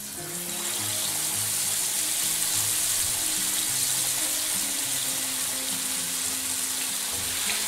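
Red snapper fish deep-fries in a generous amount of hot oil over high flame, giving a loud, dense, unbroken sizzle and crackle close up, with no voices.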